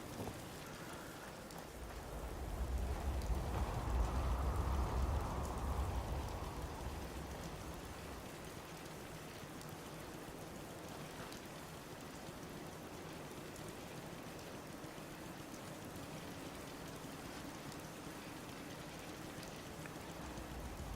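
Steady rainfall in the video game Fallout 4 during settlement building at a coastal cottage, a constant soft hiss with a louder low rumble swelling early on, no talking.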